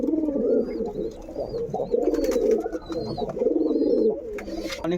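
A loft of pigeons kept for sale coo in deep, throaty, rolling phrases, several birds close by in repeated waves, with thin chirps from smaller birds higher up.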